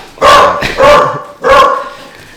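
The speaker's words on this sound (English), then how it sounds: "dogs are barking." Three loud, close dog barks in quick succession, deep and throaty, with a brief pause before the last one.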